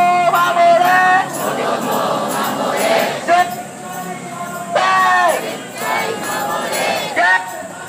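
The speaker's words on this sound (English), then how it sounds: "the crowd is quite large here" A large crowd at an anti-nuclear protest in Tokyo chants in unison, rhythmic shouted phrases repeating with pauses between, loud and close amid the mass of voices.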